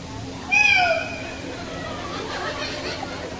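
A voice imitates a cat with a single drawn-out, rising then falling meow, close and clear, followed by quieter chatter.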